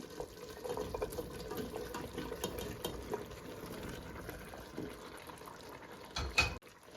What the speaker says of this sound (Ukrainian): І тепер заливаю водою так, щоб вода покрила м'ясо з овочами